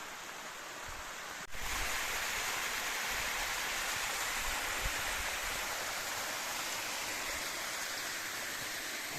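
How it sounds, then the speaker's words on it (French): The small Cascade du Moine in the Vallée de Chaudefour, Auvergne, slides and then drops in two parts. It gives a steady, moderately loud rushing roar that continues without a break. "Et voilà, la petite cascade du Moine."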